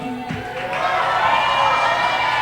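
Small audience at a character development session cheering briefly, a swelling wash of voices and whoops that grows and holds, fairly loud and close, after a short voice at the start.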